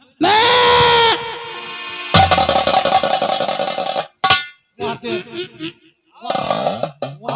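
Goats bleat loudly and close by in a rural village setting, a series of drawn-out, wavering cries with short gaps between them, with some background voices.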